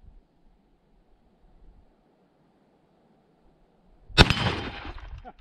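A Winchester lever-action rifle fires a single loud, sharp shot that rings briefly off a steel target, breaking an otherwise quiet outdoor stretch of faint wind.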